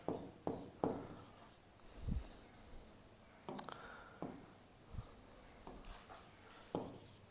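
Pen or pencil writing a short handwritten note during a Class 12 maths lesson, with scattered scratchy strokes and taps, faint and close, no talk over it.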